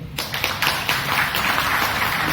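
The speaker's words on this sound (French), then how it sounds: "vous pouvez encore une fois applaudir pour vous-même" Audience clapping at the opening ceremony of a cultural event in the DRC, individual claps audible at first, then building into a fuller, fairly close round of applause.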